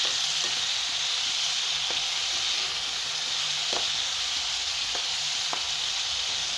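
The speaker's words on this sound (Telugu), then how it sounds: "మనం కర్రీ పెట్టుకున్న చికెన్ యాడ్ చేస్తున్నాను" Chicken pieces added to a curry with tomato sizzle loudly and continuously in a hot pan, with a few soft clicks scattered through the steady hiss.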